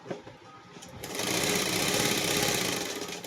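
Sewing machine stitching along a marked fitting line on fabric, a steady fast whirring run that swells louder after a brief slower start and holds close and continuous.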